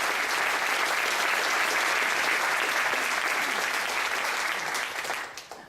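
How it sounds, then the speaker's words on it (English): A theatre audience gives a show's director a round of applause, a loud, dense, steady clapping that holds throughout and then tapers off near the end, with no voices over it. "I'd like to give her a round of applause as well."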